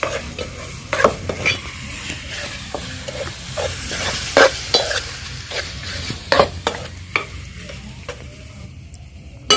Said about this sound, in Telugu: కొంచెం ఉప్పు కూడా వేసేస్తున్నాం అన్నమాట ఒక్కసారి కలుపుకుందాం